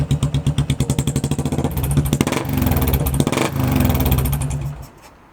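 A Yamaha SR400 motorcycle, built up as a classic chopper, starts and runs. Its single-cylinder engine thumps in rapid, even pulses, then revs up into a louder, denser roar before dropping away near the end.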